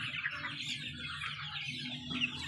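Desi chickens and roosters on a small poultry farm cluck and call repeatedly, several birds at close to middle distance, in irregular overlapping bursts.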